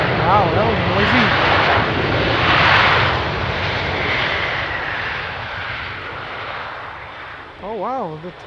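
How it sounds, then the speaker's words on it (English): Airbus A321 jet applying reverse thrust on landing at an airport, a loud swelling roar that peaks and slowly fades, with a voice briefly talking over the start and end. "Oh wow, the 321 reverse thrust."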